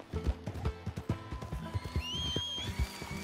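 A horse in Red Dead Redemption 2 clip-clops in a steady, fairly close rhythm of hoofbeats, with a brief high whinny rising partway through.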